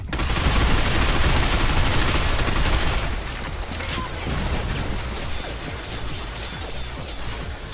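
Sustained gunfire in the Binary Domain video game, a loud dense burst of fire that thins after a few seconds into lighter, scattered shots under ongoing noise.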